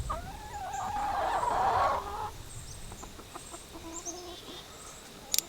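Laying hens on a pasture farm cluck close by, a louder run of clucks at first easing into softer scattered clucks and calls.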